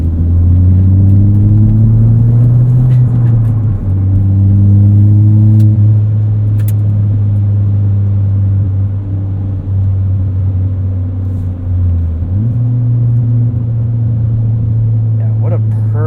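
A modified 2017 Ford Fiesta ST hot hatch on an autocross course, its engine droning loud and steady with pitch rising under acceleration, dipping briefly around gear changes, then climbing again, with a continuous cabin rumble throughout.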